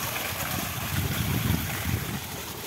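Water gushes from a farm borewell pipe in summer, a steady, close, broadband rush that holds its strength throughout with slight surges, with no voices.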